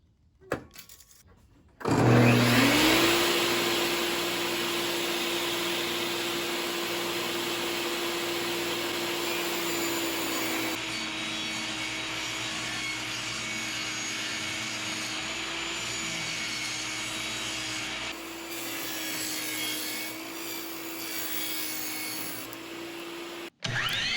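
A table saw spins up and cuts wood pieces for small lanterns, a loud close steady whine with a sustained hum running for over twenty seconds, shifting in tone mid-cut, then winding down briefly at the end.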